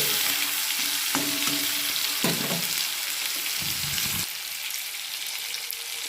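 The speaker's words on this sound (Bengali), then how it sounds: "এবার আমি এর মধ্যে টমেটোটাকে দিয়ে দিলাম" Tomato frying in a hot pan, a loud, steady, hissing sizzle throughout with a few scraping stirs and clinks of the spoon, close and continuous.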